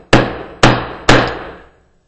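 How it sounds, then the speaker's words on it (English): A hammer strikes a metal pin tool set into a hole in a leather knife sheath, three sharp, loud, close blows evenly spaced, each ringing briefly before fading, with no talking. "we just hit it with a hammer."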